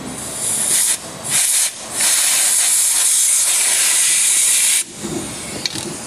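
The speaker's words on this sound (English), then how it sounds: "You need to take an air gun and just blow that out of there" Air gun blowing debris out of a hole during an F150 heater core job, loud hissing bursts of compressed air, two short blasts then a long sustained one that stops abruptly.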